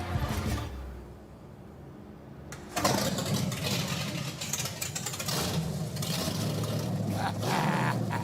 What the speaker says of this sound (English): Yeah, fire it up.